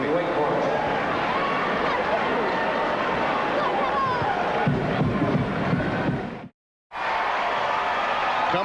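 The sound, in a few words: basketball fans cheering at Cameron Indoor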